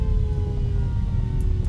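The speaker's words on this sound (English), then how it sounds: "Oh my goodness, I forgot about the sirens." A video game siren wails in a steady, sustained tone throughout, loud and close, with no talking over it.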